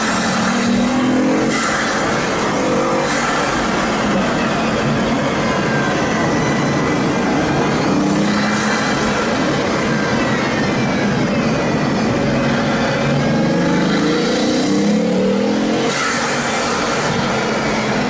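A Bugatti Veyron Vitesse drives on the Mille Miglia route, its engine a loud, continuous roar heard from inside, swelling and easing as the car accelerates and shifts along winding roads, with no voices.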